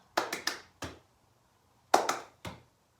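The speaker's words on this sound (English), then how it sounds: "Can you clap once and catch the ball?" Hands clap sharply while catching a ball in a children's PE lesson: a quick burst of three claps, a single clap, a pause, then another three claps, close and distinct in a quiet room.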